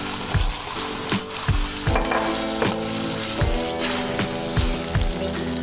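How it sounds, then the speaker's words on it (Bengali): Fried pointed gourd pieces go into a pan for dudh potol and sizzle steadily, while a utensil stirs them with regular knocking scrapes roughly every half second over the hiss. "আমি দিয়ে দিচ্ছি এই ভাজা পটলগুলো"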